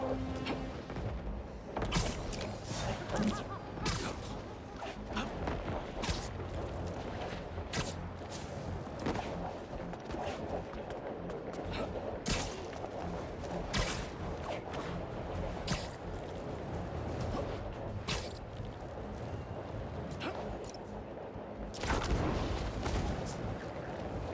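Fireworks in Marvel's Spider-Man 2, set in New York, go off as a long run of faint, irregular pops and crackling bursts over a steady background hum, with no talking.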